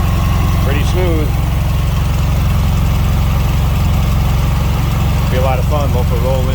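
Low, smooth idle of a 1968 Volkswagen Beetle engine runs constantly underneath, with someone speaking briefly near the start and again toward the end.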